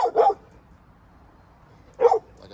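A dog in a big group of dogs barks twice in quick succession, then once more after a pause, close and fairly loud with no talking.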